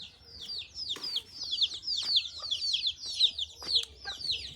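Several chickens cluck and cheep nearby in quick, repeated high calls, a busy continuous chatter with occasional louder bursts and faint low background noise.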